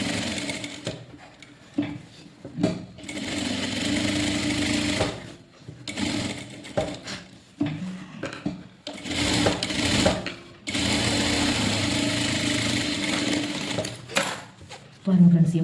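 A sewing machine stitches the back lining of a blouse in bursts of rapid mechanical whirring separated by short pauses, close up, while someone talks over and between the runs.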